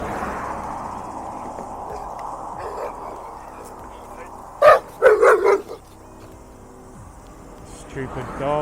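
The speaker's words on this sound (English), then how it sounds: "Stupid dogs." Dogs in New Zealand bark in a quick burst of several loud, close yaps about midway through, over a low steady background hum that is otherwise fairly quiet.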